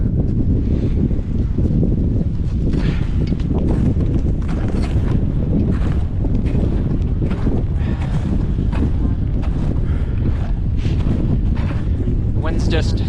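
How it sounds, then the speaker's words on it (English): Strong wind high on Mount Baker in the North Cascades of Washington roars and buffets the microphone in a loud, unbroken rush for the whole stretch. "Wind's just ripping up here"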